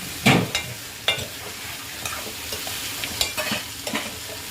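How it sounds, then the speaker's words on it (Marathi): Ridge gourd vegetable stir-fried in a pan, with a steady soft sizzle broken by several distinct scraping stirs of a spatula, close and moderately loud, with no talking. "परतून घ्यायचं"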